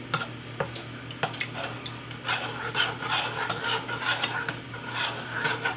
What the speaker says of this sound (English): And I'm just going to stir that.